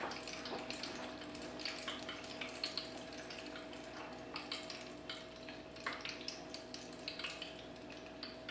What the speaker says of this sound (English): you fry these for approximately 2 minutes until they're brown